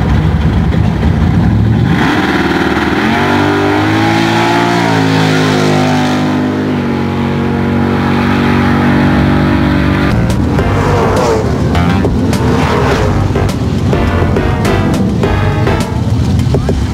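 Race car engine at a drag racing track, loud and continuous, shifting pitch as it revs and drives, with harsher bursts in the second half.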